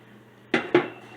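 Two hot glass canning jars are set down into a metal roaster pan, giving two sharp clinks about a quarter second apart. They sound close and clear over a faint background hum.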